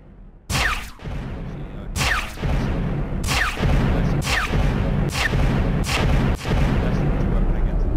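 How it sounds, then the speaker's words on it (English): Double laser blasts from a spaceship in the StarMade space game, five sharp loud shots spaced about a second apart over a steady low rumble, each with a quick descending zap. "at some points it's shooting double lasers"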